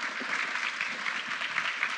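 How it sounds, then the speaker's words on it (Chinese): An audience at a HITCON security conference applauds to welcome two speakers, a soft, even spread of clapping heard from a distance and no voice over it. "我们就让我们掌声欢迎两位讲者带来的演讲"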